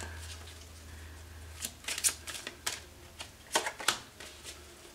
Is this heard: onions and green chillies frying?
no